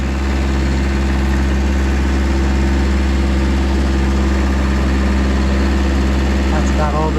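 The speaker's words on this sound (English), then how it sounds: "That's about all this little tractor here is going to want to pick up." Small Kubota B3030 tractor engine running steadily while carrying a log load to a sawmill, a loud continuous low drone and rumble throughout, with brief faint chirps near the end.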